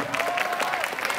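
A school audience at a student democracy project event at a Bandar Lampung high school claps in a brief, continuous round of applause at moderate loudness, with a faint tone lingering underneath.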